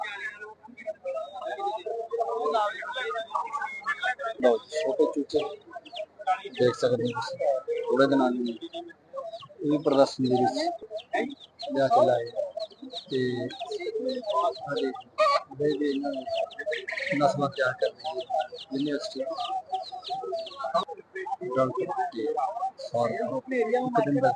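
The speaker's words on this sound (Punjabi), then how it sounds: "ਮੁਰਗੀ" Hens and roosters cluck repeatedly at a crowded livestock fair at a veterinary university in Ludhiana, with people talking steadily around them throughout.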